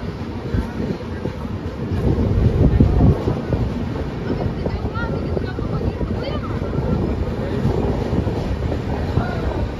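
Kamrup Express rolling along, heard from beside the open door of a crowded general coach: a loud, steady rush of wheels and wind with rattling, and voices murmuring beneath.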